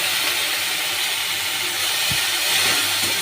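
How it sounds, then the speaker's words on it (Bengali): Spices and a little water added to a hot pan for tangra fish with potato in yogurt gravy, giving a steady, fairly loud broadband hiss of sizzling with a brief thump partway through, no talk. "এবার আমি সব মশলাগুলো একসাথে দিয়ে দেব। হালকা একটু জল ব্যবহার করব।"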